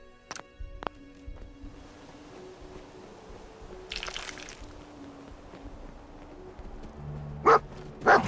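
Dogmeat, the dog in Fallout 4, gives two short, sharp barks near the end after quieter game ambience with a few clicks and a brief hiss, no talking.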